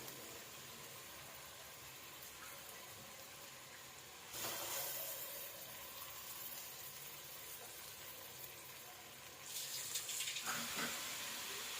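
Water is poured onto soaked rice in a pot as a steady rushing hiss that swells into two louder surges, running continuously without speech.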